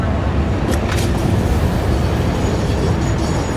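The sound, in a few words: train in the video game Satisfactory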